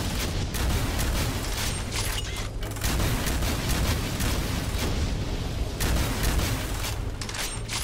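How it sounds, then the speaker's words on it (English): Rockets fired from a launcher in the Doom mod Project Brutality, a dense run of booming blasts and explosions that keeps going, loud and close, mixed with game noise and no talk. "Let's give him some rockets."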